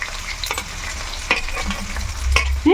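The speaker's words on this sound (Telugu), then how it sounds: "ఇంక ఇవన్నీ కూడా మంచిగా బాగా వేగాలి" Onions, green chillies and carrot frying in a pan for semiya upma, a steady close sizzle with a few sharper stirring scrapes and clinks of a spoon, no voices.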